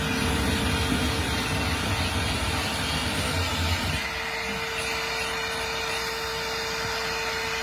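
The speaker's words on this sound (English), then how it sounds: "we're gonna run our vacuum so that we're not spitting out a bunch of dust here" A shop vacuum runs beside a wall being drilled with a hammer drill for a mini split air conditioner install. It gives a steady, loud whooshing drone that shifts slightly in tone midway, with no voices.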